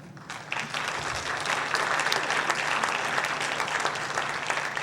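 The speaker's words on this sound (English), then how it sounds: "Please give my tech crew a round of applause" A school jazz concert audience claps for the tech crew, applause swelling quickly from a quieter start into a full, steady round of many hands that continues to the end, with a low electrical hum beneath.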